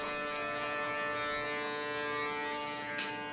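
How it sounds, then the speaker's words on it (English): Electric hair clippers with a two guard, lever closed, fading hair: a steady close buzzing hum that runs throughout with a brief brighter rasp near the end, no talking. "We're going to try to lighten this up as much as possible with that two guard."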